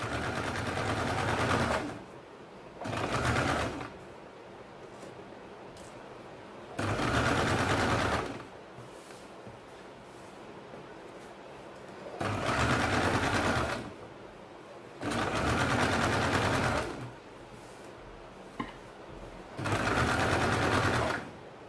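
A sewing machine stitches a kurta neckline in five or six loud, steady bursts of rapid whirring, separated by short pauses of quiet.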